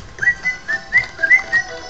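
Someone whistles close by, loud and clear, in a series of short rising chirps spaced about a quarter second apart, with no other sound behind it.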